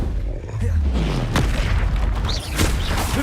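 Explosive blasts of the Confringo spell in Hogwarts Legacy, heavy and booming with a low rumble, repeated over a dense, loud battle background.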